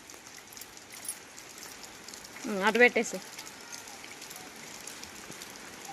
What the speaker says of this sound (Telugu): ఫుల్గా పడుతుంది వాన.